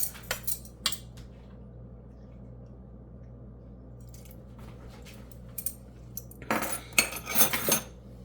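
Banana bread batter with vanilla being mixed by hand in a bowl, heard as a few sharp utensil clinks against the bowl, soft quiet scraping between them and a denser burst of clatter near the end, close and without talk.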